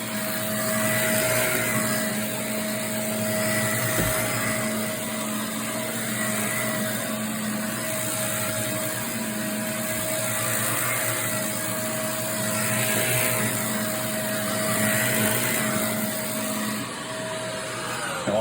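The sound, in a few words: vacuum cleaner running on carpet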